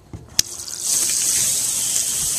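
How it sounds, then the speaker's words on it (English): Water sprays from a hose driven by a Dankoff Flowlight booster pump on a solar-powered off-grid water system, starting with a couple of clicks and then a loud, steady hissing gush. "All that's from the Dankoff flow light booster pump."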